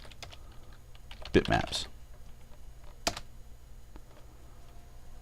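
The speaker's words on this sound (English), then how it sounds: "Type in tool, bitmaps, levels" Keys tapped on a computer keyboard while entering folder names for Halo Custom Edition bitmaps, a quick cluster of clicks followed by a couple of isolated key presses, with someone talking over it.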